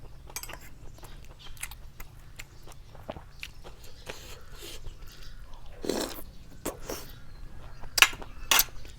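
Someone chews and bites into a spicy raw meat salad (koi), with close, wet, irregular crunching and smacking bites and a few light clinks.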